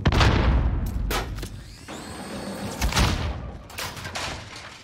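Call of Duty: Modern Warfare online Domination match: a frag grenade blast booms, followed by rapid bursts of gunfire and further heavy thuds, loud and close, in dense battle noise.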